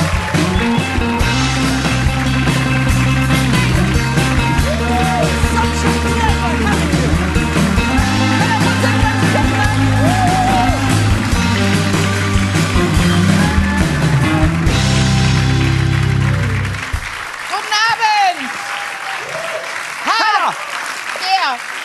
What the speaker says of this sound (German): Klatschen Sie jetzt für Hella von Sinnen!